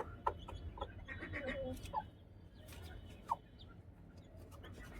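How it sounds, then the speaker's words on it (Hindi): An Aseel hen clucks softly with her chicks on a rooftop poultry setup, with short scattered clucks and high chick peeps over a low background hum, fairly faint. "असील मुर्गी अपने बच्चा चुना रही है"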